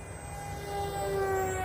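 A small remote-controlled camera-platform airplane flies overhead, its electric motor giving a steady, high whine that swells slightly as it passes, with no voices.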